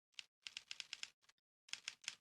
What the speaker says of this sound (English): Typewriters.